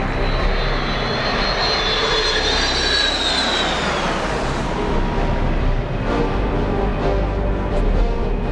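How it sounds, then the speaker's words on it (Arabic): A loud jet roar from F-16 fighter jets sweeps past overhead at an air force display, its whine dropping in pitch as they pass, then a steady rumbling engine noise lingers. "طائرات F-16 تعتبر من المقاتلات المتطورة"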